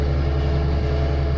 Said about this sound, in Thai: เร่งเครื่องเบาๆ ครับ